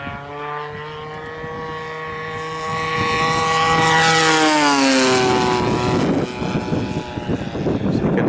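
RC scale Hellcat model airplane powered by a G45 gas engine flying past, a buzzing propeller drone that swells louder and sweeps down in pitch as it passes overhead, then fades into rougher noise.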